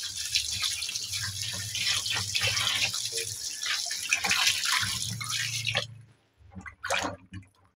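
A chicken thigh rinsed under a running kitchen tap: a continuous splashing stream that cuts off near the end, followed by a couple of brief spurts of water.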